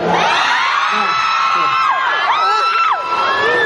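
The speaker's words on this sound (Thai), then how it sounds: "ขอเสียงกรี๊ดจากแฟนๆนิชคุณหน่อยครับ" A large crowd of fans screams and cheers loudly and continuously for Nichkhun at a live event, with high-pitched shrieks and whoops rising and falling.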